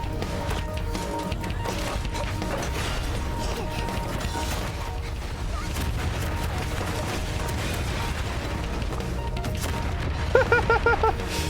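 A wooden bat hitting and splintering in an action animation with mechas and missiles, dense crashing and cracking impacts under a busy soundtrack throughout, with a burst of higher clattering near the end.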